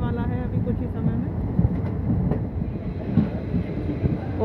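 A Mathura-Jaipur passenger train, number 04173, running at about 100 km/h gives a steady, loud rolling rumble with wheel and carriage noise, a few clanks and knocks rising out of the continuous roar.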